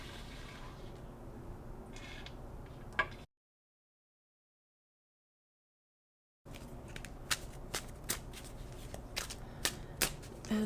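Tarot cards being shuffled by hand for a reading, a soft papery riffle and flutter with crisp snaps and taps, close by; the handling is interrupted by a few seconds of silence before resuming with sharper flicks.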